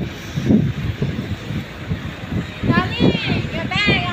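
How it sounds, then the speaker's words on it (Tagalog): Strong wind in Dubai buffets the microphone in gusty rumbles while people talk close by throughout. "Lakas ng hangin, grabe"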